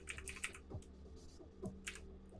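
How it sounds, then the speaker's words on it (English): Typing on a computer keyboard in the video game s.p.l.i.t, a few quick bursts of soft clicking keystrokes, close and quiet, with no talk. "Acknowledge them at any time by typing."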